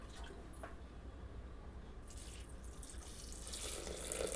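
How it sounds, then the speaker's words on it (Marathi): Water poured from a small glass into a pot of dry-roasted mung beans, a steady splashing trickle running for a few seconds that swells a little louder toward the end, close by with no talking. "आता यामध्ये मी छोटे 2 ग्लास पाणी ॲड करणार आहे."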